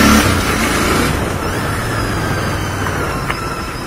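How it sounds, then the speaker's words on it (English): A motorcycle engine hums steadily up close as someone rides, a loud, even drone with a faint rise at the start and rushing wind noise throughout. "it feels so good to ride my motorcycle once again"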